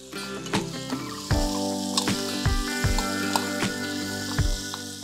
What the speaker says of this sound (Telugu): సన్నగా ముక్కలు తరిగా ఒక పెద్ద ఉల్లిపాయ ఇందులో వేసి వేయిస్తున్నాను